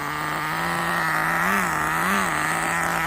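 A nitro RC remote control car's small engine holds a steady, buzzing whine, then swells in two brief revs before settling back, close and continuous with no talk.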